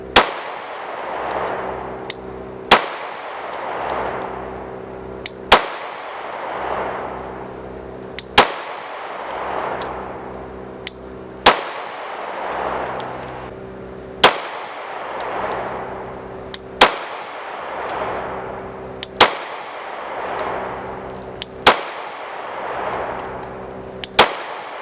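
A Glock 30S .45 ACP pistol fires about nine sharp, loud shots, spaced evenly a few seconds apart, each with a ringing echo that fades before the next.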